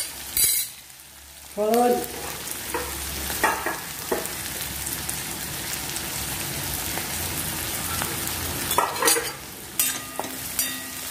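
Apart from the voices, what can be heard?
green chilies and turmeric frying in oil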